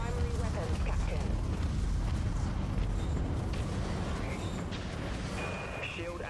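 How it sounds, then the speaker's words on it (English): Vulture missiles launching and exploding in the spaceship combat game Dreadnought, a heavy, sustained rumbling roar of blasts with scattered mechanical beeps, loud and steady throughout, with a faint synthetic voice briefly heard. "Launching vulture missiles"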